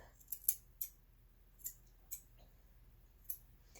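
Grooming scissors trim the hair on a dog's paw pads, giving a handful of sharp, close snips spaced irregularly about half a second apart over a quiet background.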